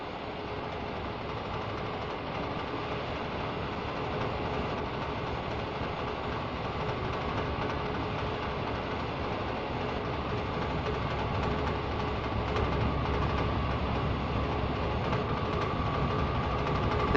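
Steady rumble and rolling clatter of a British Rail electrification works train carrying an equipment wagon on the West Coast Main Line in 1965, continuous and even throughout with no talk.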